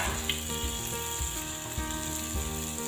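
Chopped onion and garlic lightly frying in hot butter, a dense, even sizzle that crackles continuously at close range with faint rhythmic bumps underneath, no one speaking.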